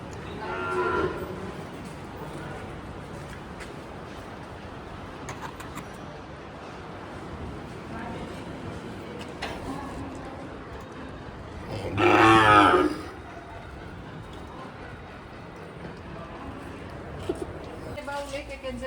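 Cattle at a large village cow shelter caring for blind and disabled cows, heard as one loud, drawn-out moo partway through, plus a fainter low call earlier, over a steady outdoor background with people talking nearby.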